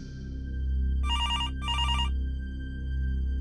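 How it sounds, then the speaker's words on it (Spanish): A school telephone rings in two short electronic bursts, steady and fairly loud over a low background hum. "El teléfono de la escuela no paraba de sonar."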